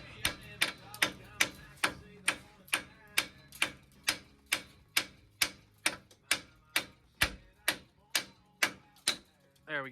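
A hammer striking truck suspension parts on a crashed Ford Ranger during a Superlift suspension kit install: about twenty sharp metallic blows in a steady, even rhythm, close and loud, with no talk over them.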